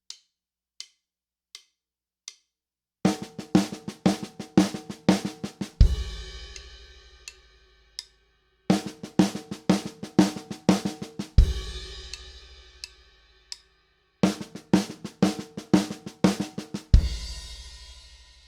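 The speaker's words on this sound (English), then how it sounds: "A really common rhythm that we play a lot in fills and solo ideas within a 16th note grid" Drum kit playing a 16th-note accented fill pattern: a few sparse ticks, then three bursts of rapid, crisp strokes with accents, each ending in a loud crash-like hit that rings out, close and alone without talk.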